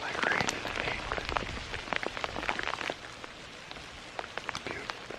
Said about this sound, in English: Now it's like raining in England.